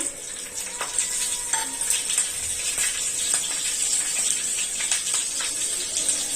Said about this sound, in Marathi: आपली फोडणी छान तडतडली आहे.